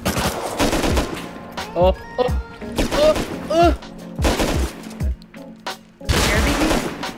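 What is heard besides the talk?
gunfire shooting scientists on oil rig in Rust video game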